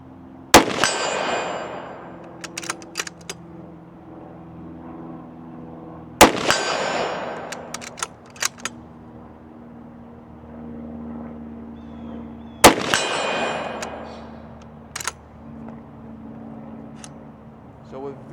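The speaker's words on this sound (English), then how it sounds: "And I'm just shooting some steel body plates." Three sharp 6.5 Creedmoor bolt-action rifle shots ring out at steel body plates about 100 yards away, each crack followed by a long ringing decay and smaller metallic clangs, with short talk between shots.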